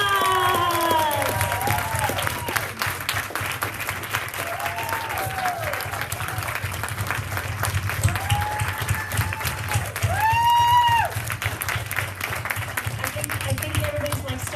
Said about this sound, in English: let's give Susan a huge round of applause